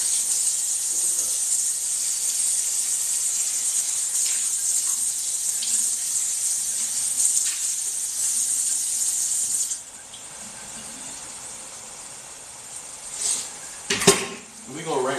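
Running kitchen tap hisses steadily while dishes are rinsed, with faint clinks of dishes and cutlery and a brief louder clatter near the end, no talk.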